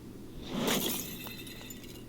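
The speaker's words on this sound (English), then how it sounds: "the Breaking Shatter Car Horn for 75 Forzathon points" A Breaking Shatter car horn in Forza Horizon 5, heard as a single brief burst of breaking, tinkling glass that swells and then fades, with a sharp click at the very end.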